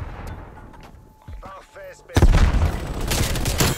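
Grenade blast in Black Ops Cold War erupts loudly midway after some quieter game sounds and a brief voice, followed by sustained rumbling noise.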